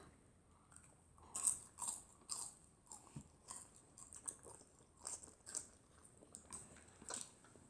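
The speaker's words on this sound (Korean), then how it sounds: "난 탕수육 한 입만 먹고 난 끝내야겠다" Close, quiet bites and soft crunchy chewing of sweet and sour pork (tangsuyuk), in a series of short separate bursts.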